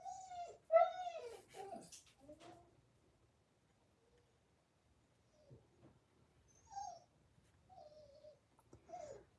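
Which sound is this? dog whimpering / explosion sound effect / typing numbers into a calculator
dog whimpering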